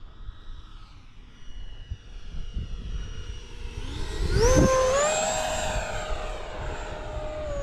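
An FMS BAe Hawk radio-controlled model jet flies overhead outdoors, its ducted-fan whine swelling as it nears, peaking loudly mid-pass with a sharp pitch sweep, then holding a steady, fading roar.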